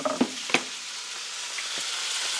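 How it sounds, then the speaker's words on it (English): Chicken sizzles steadily on a Blackstone griddle, a close, even hiss of frying with a couple of sharp utensil taps at the start. "Man, listen to that sizzle."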